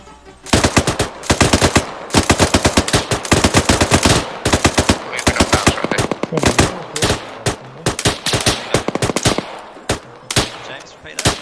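Suppressing fire in Arma 3 rings out as loud, rapid automatic gunfire, bursts of machine-gun rounds from several weapons overlapping in dense rattling volleys, with brief pauses between strings of shots.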